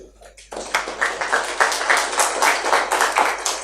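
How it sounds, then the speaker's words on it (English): Audience at a Meet Magento India 2020 conference breaking into clapping after a brief lead-in, dense and steady applause from a fairly close crowd for a few seconds. "So huge round of applause for you guys."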